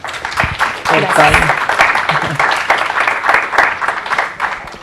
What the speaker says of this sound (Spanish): dándole un aplauso